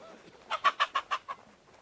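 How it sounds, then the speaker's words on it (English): A chicken in Kingdom Come Deliverance 2 lets out a rapid run of about six clucks in a steady rhythm, clear and fairly close against a quiet background. "I'm really glad he didn't turn around when the chicken made a noise."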